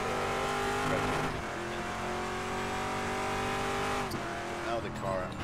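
A race car with traction control engaged roars around a track in the RaceRoom racing game, its engine holding a loud, steady high-pitched drone with sharp gear shifts and a brief squeal partway through.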